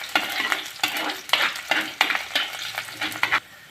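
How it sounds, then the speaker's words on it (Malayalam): Garlic, ginger and curry leaves frying in a pan for kingfish mappas are stirred in about seven regular, close scraping strokes over a light sizzle, with no one speaking. "ഞാൻ അടിയിൽ പിടിക്കാതെ ഇളക്കി കൊടുക്കുന്നുണ്ട്"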